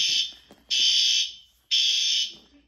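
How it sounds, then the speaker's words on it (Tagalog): A fire alarm at an inn blares in three loud, piercing bursts, each lasting about a second with short fading pauses between, close and without voices. "Tumunog na naman yung alarm."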